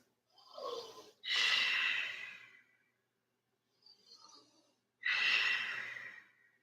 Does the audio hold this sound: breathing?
yes